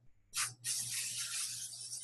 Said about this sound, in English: What we're going to do is we're going to spray this.